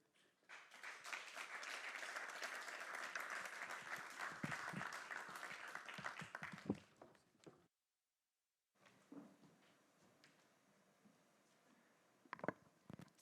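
Loud, sustained audience applause at the 2024 World Table Tennis for Health Congress, swelling for several seconds and fading out, then a brief silence followed by faint room noise and a few soft knocks.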